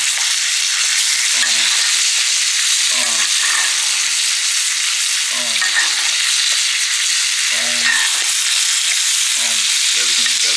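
Sauce is basted onto food in a hot frying pan, giving a loud, steady sizzle throughout, broken by regular short, low scraping rasps every couple of seconds.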